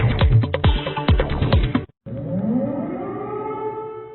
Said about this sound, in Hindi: इसके चलते थोड़ी थोड़ी देर में खतरे का सायरन बजता है